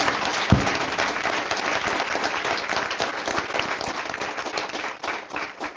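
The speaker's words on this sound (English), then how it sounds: "So I want you to give them a hearty round of applause." Sustained applause from an audience at an award ceremony, a steady wash of many hands clapping at moderate volume, with one sharp louder clap near the start.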